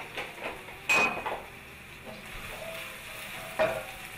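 Minced ginger frying in butter in a pan for a vegetarian peppered cabbage dish, with stirring clatter and two sharp scraping accents over a soft, steady sizzle.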